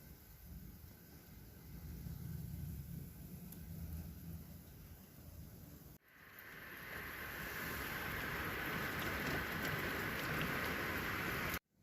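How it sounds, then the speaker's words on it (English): Early-morning rain falls steadily, a dense hiss that swells louder and brighter after a brief break partway through, with no voices. "This early morning rain."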